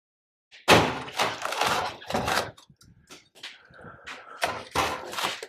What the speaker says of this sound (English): The old tire iron does a nice job.